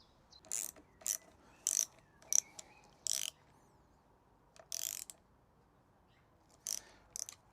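Ratchet tightening a threaded fastener, a few short clicking bursts separated by pauses, faint and close, with no talk.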